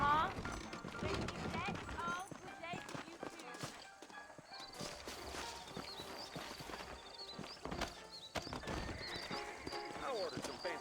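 Horses in the Red Dead Redemption video game clip-clop steadily with repeated neighs and whinnies, mixed into busy game sound with characters talking over it throughout.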